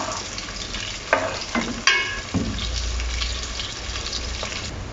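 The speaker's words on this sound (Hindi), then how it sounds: "अब इसके अंदर प्याज ऐड कर देंगे और इसको गोल्डन ब्राउन करेंगे।" Onions frying in a pot for beef biryani, cooked until golden brown, a steady sizzle with a few sharp stirring scrapes and clanks early on.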